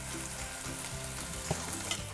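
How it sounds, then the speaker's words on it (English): Short ribs browning in olive oil in a hot Dutch oven over medium-high heat, a loud continuous sizzle close up, dense and even with occasional sharper spits and pops, no voices. "We're gonna brown up the short ribs in a hot Dutch oven. Got a little bit of olive oil, medium-high heat"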